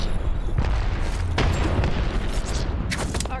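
A frag grenade goes off in a video game, a dense booming blast with rumbling low end that fills the scene, followed by further scattered bursts and sharp crackles near the end.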